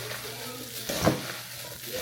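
Green onion dropped into a sauce sizzling in a pan, heard as a steady frying hiss that swells briefly in the middle with a stirring clatter.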